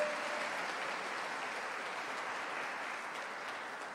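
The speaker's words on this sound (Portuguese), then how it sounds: "Vamos aplaudir Jesus?" A church congregation applauds during a service, a steady, dense wash of clapping that holds evenly for several seconds and sits somewhat distant.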